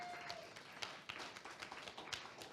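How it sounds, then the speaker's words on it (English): Scattered clapping from an audience at an evening county town hall meeting, faint and distant, a loose patter of hand claps lasting a couple of seconds. "please give yourselves a round of applause"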